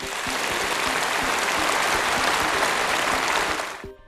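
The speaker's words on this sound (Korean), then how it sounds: "박수가 터져나왔습니다" A large audience at a Chinese political assembly claps after a speech by Xi Jinping, giving a thick, loud, continuous burst of applause that cuts off abruptly near the end.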